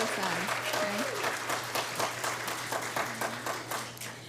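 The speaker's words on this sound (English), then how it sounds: "Please give him a round of applause" An audience applauding at an awards ceremony, with dense, sustained clapping from a room full of people that gradually thins out, while a speaker's voice rises and falls over the top.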